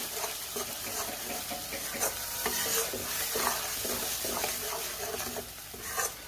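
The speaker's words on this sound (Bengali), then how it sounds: "এবার ভালো করে কষাতে হবে" Tangra fish curry masala sautéed with salt and turmeric over a medium flame, heard as brisk, repeated spatula stirring and scraping over a constant close sizzle.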